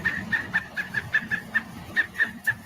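Cartoon-style woodpecker laugh played in reverse, a quick run of about a dozen even, chirpy staccato hoots over faint background noise.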